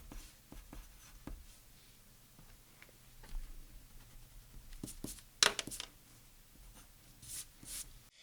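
Marker pen writing color names onto a paper chart for fashion rendering, heard as scattered soft scratchy strokes and taps close to the microphone, a few louder squeaky swipes near the middle, with no talking.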